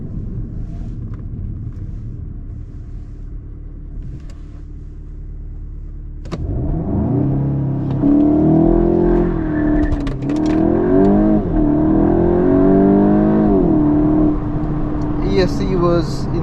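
A VW Mk8 Golf GTI accelerates hard from inside the cabin, a low steady drone swelling into rising engine note with gear-change dips, loud and close, with brief voice sounds near the end.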